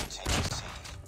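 A single sharp sniper rifle quickscope shot in Call of Duty Mobile, a loud crack followed by a short booming decay.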